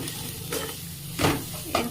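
Vegetables and egg fry for chowmein in a pan, a steady low sizzle with two louder bursts of stirring and scraping near the end, close and without talk.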